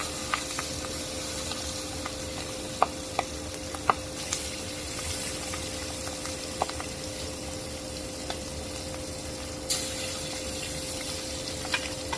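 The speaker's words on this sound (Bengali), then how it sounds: "আবার চলে আসলাম চুলায় মাছ ভাজতে। মাছটাকে ভেজে নিব। তেল দিয়ে দিছি, দিয়ে দিব। আগে মাথাটা ভেজে নিব।" Pangas fish head frying in hot oil on a stove, a faint, continuous crackling sizzle with a few sharp pops and spits scattered through it, no voices.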